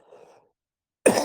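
A single sharp cough bursts out loud and close after a stretch of near silence, preceded by a faint murmur of background noise.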